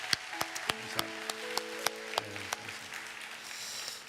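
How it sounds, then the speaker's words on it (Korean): Sparse, irregular claps from a church congregation during a Sunday worship service, soft and somewhat distant, with sustained keyboard-like tones held underneath. "박수로 축복하도록 하겠습니다."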